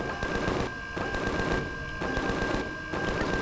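Enemy gunfire in Empyrion Galactic Survival, rapid automatic bursts crackling in quick succession with brief pauses between volleys, loud and continuous over a steady game background hum.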